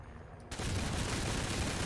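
Heavy cannon fire from a Sky Guardians vehicle in War Thunder, a sustained loud burst with the trigger held down that starts suddenly after a short quiet lead-in and roars on unbroken to the end.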